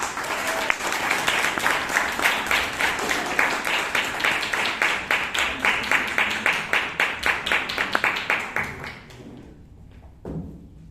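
A room of Toastmasters club members in Bangalore claps steadily in a thick, even round of applause for about nine seconds, then it stops abruptly, followed by a quiet pause and one soft thump.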